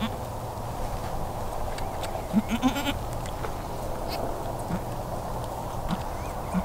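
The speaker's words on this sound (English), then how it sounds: "So this is one of our Bodark Kiko nannies." A Bodark Kiko nanny goat on a homestead gives a few short, soft bleats in a brief cluster, then one or two faint single calls later, set against a steady low outdoor rumble.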